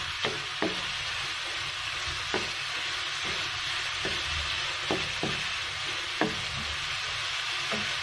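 Tengra fish curry frying in a pan as tomato pieces go in, a continuous bright sizzle punctuated by sharp clicks and taps of a spoon stirring against the pan.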